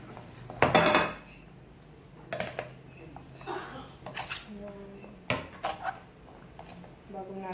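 Cabbage is tossed and mixed in a bowl for kimchi, giving scattered clinks, scrapes and knocks of utensils against the dish. A voice talks in between.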